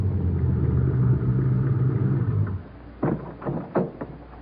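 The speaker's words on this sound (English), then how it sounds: "The car pulls through the gate and heads toward the hangar" A car rolls into a hangar in an old-time radio drama, a low engine rumble that cuts off after a couple of seconds, followed by a few sharp mechanical clunks.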